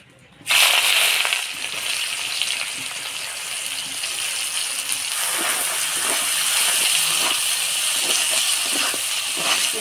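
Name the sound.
chopped onion sizzling in hot oil for chicken curry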